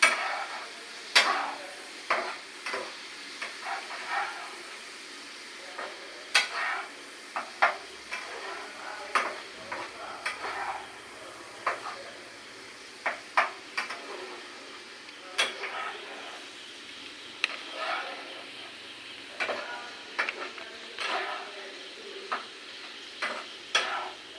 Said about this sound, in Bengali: এই যে দেখছেন লবণ এটা এর মিশিয়ে দেবো আলু দিয়ে